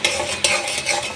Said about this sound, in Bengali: এটাকে বেশ কিছুক্ষণ নাড়াচাড়া করে নিই, কারণ এটার জলটা আরেকটু শুকিয়ে নেব